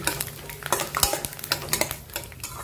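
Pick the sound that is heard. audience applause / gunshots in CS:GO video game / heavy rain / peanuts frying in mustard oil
peanuts frying in mustard oil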